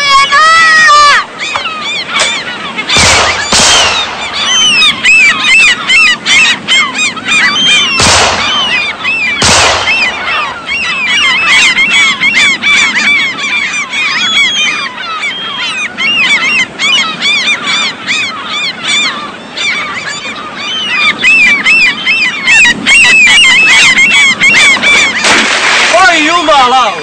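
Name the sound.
birds honking, geese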